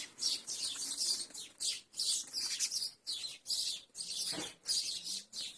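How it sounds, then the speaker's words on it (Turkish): Many birds chirp and tweet at their nests in mating season, in dense, overlapping bursts, a lively busy chorus close by with brief gaps between the calls. "kuşları yuvalarına şu anda döndüler"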